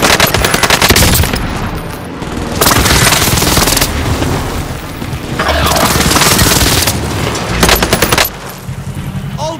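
Loud, sustained automatic gunfire in Call of Duty: Modern Warfare, long rattling bursts with booming impacts, broken by brief lulls before the shooting resumes.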